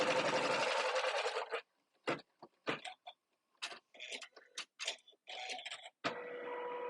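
A sewing machine stitches a quilt block, opening with a fast, steady run of close mechanical stitching, then breaking into short separate bursts and clicks with brief pauses between them.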